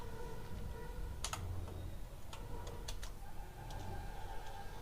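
Computer keyboard typing while searching for Kali Linux in the Chrome browser, heard as a few scattered short clicks over a steady background hum.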